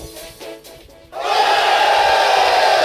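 Boys in a classroom from the visual novel game Shuffle! erupt into loud, sustained cheering after a brief quieter lead-in, the crowd of voices holding steady to the end.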